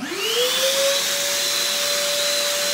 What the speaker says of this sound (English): I have to put on my shop vac so it's loud